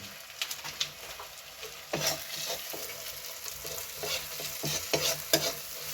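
Chicken being stirred with meat masala in a pan, a faint sizzle under repeated scraping strokes of a spoon against the pan, close and without talk.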